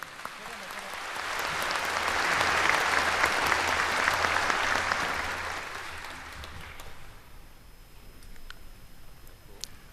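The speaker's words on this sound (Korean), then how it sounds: "대한민국을 밝게 비춘 국민 여러분 한 사람 한 사람의 빛에 다시 한번 뜨거운 박수 부탁드리겠습니다" A crowd applauds at a national Liberation Day ceremony, with sustained clapping that swells, peaks in the middle and then thins out toward the end.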